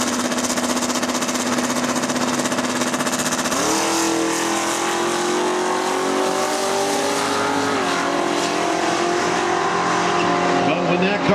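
Loud engine of a turbocharged Datsun 240Z drag car at full power launching off the line, its pitch climbing through gears under an excited race commentator.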